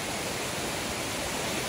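Waterfall beside a hiking trail, a steady, loud broadband rush of falling water filling the scene without pause and with no voices over it.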